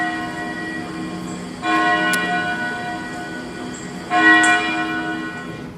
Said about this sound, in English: The bell invites me. Hear it not, Duncan, for it is a knell